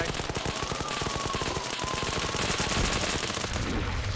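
Sustained bursts of rapid machine gun fire in an SCP shooter game, dense rapid-fire cracks continuing loudly throughout with barely any pause.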